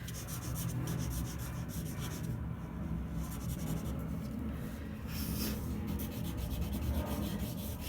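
A Posca paint pen rubbing steadily across paper while painting a sea, a continuous close scratchy scrubbing with brief pauses and no talk.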